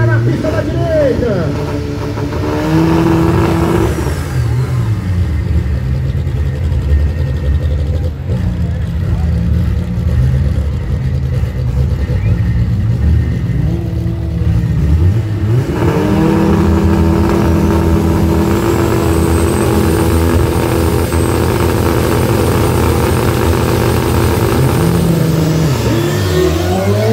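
Cars drag racing side by side on a strip, a Chevette among them, with loud engines revving and roaring through gear changes over about 27 seconds under continuous excited commentary.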